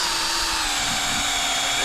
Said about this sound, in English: You can drill 2 at a time to put the bolts in.